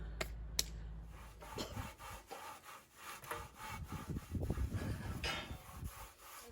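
Sandpaper of 400 grit rubs back and forth across a cast concrete barrel table top, a steady close scraping with uneven strokes and a couple of sharp knocks near the start.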